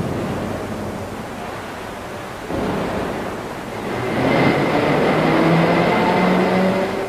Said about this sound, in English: Here we see the train of waves formed behind the carriage.